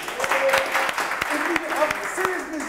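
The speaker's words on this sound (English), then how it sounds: "Clap if you liked it" A room of attendees at a startup networking event claps in a scattered, moderate burst, individual hand claps standing out from the mass, with voices and some whooping mixed in throughout.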